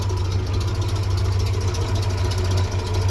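A UAZ-452 van engine idles nearby, a steady low rumbling drone that holds even throughout with no talking.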